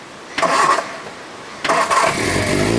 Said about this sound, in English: now he's gonna start it and show you like how smoothly it starts